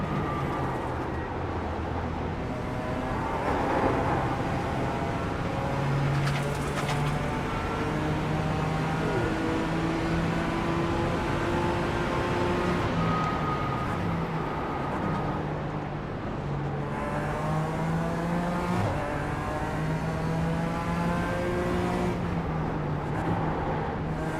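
Several car engines in a racing video game, with a BMW close behind, producing a constant loud drone whose revving tones rise and fall as the cars shift gears, sustained over steady road noise.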